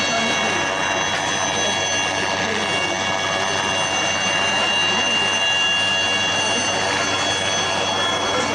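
A helicopter engine spools up for takeoff at Durpin Dara in Kalimpong, a loud continuous turbine roar with a thin high whine held steady throughout, heard close with no break.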